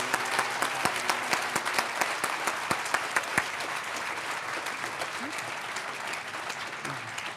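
A medical school ceremony hall fills with sustained, steady applause for new Yale School of Medicine students, many hands clapping at a moderate distance with some sharper claps standing out, gradually thinning toward the end.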